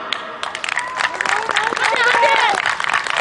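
Crowd applause at a village keşkek festival in Gülpınar, with dense sustained clapping building in volume, mixed with scattered cheers and voices over a loudspeaker.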